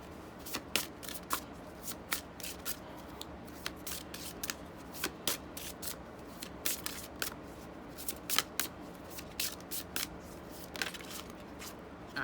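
Tarot cards are shuffled and drawn by hand in a quiet room, a steady run of crisp riffling snaps and soft card slaps spread throughout, close and fairly faint.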